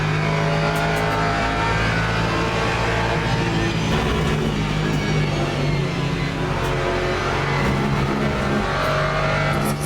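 Race cars including a BMW and a McLaren in the racing video game Le Mans Ultimate in rain, engines droning and revving steadily with shifting pitch, loud and continuous with a faint voice occasionally beneath.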